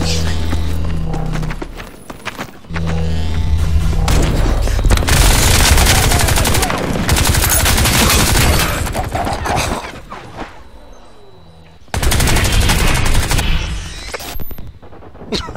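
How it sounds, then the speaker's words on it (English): Bursts of automatic gunfire from Crysis 2 multiplayer crackle loudly in repeated volleys, separated by short lulls, with a player's voice occasionally heard over the shooting. "Taking fire!"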